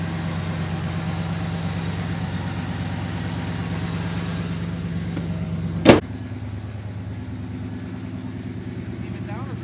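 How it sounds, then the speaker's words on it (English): Steady low 1967 Oldsmobile 442 V8 engine idle with an exhaust rumble running throughout, a brief sharp click or knock partway through, and a voice talking over it. "Nice and smooth running. You can hear the exhaust in the background."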